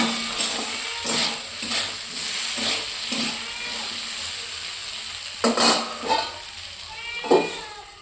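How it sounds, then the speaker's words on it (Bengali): Spices such as turmeric, chili and cumin being stirred in a cooking pot while fish cooks, with repeated scraping strokes over a soft sizzle and a few sharper clinks, moderately close. "জলের আগে মশলাগুলো সব মেশাতে হবে, হলুদ, লঙ্কা, জিরা এই সকল"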